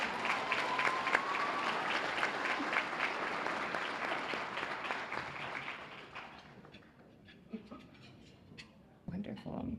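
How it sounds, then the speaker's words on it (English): Applause from an audience at a senior center event honoring older community members, a broad sustained wash of clapping that thins out and fades over the last few seconds, with a brief burst at the end. "Please give them a round of applause as they make their way to the stage."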